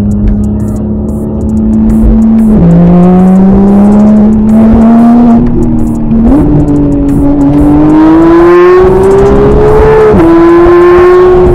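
A Porsche GT3 sports car engine revs loudly and continuously while driving, its pitch climbing through gears with brief drops at each shift, close and dominant throughout.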